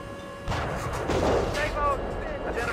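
Tank cannon fire in the Steel Beasts Pro tank warfare video game, set in open fields: a single heavy boom followed by a rumbling tail, with radio-style voices talking around it.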